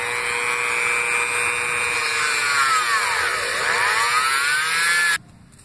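A small power drill bores a larger hole through a piece of popsicle stick, wide enough for a barbecue skewer, while building a spider robot. A steady, close, high motor whine runs for about five seconds, then cuts off abruptly.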